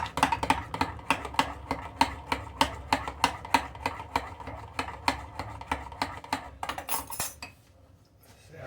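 A spoon stirring a buttermilk dressing mixture with white vinegar, a rapid, regular clinking of metal against a bowl for several seconds before stopping.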